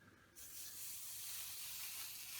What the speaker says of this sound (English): as the iron cools, you'll hear less and less steam being produced